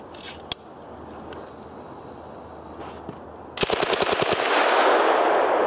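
A VZ-26 rifle converted to 9mm fires a rapid burst of about ten sharp, loud shots, starting after a few quiet seconds of faint handling noise, with no talk.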